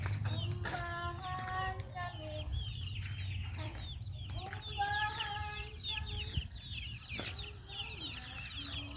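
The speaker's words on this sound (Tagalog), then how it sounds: "Diri na lang ta sa itong mga manok." Chickens clucking and squawking repeatedly, several birds close by in bursts over a low background rumble.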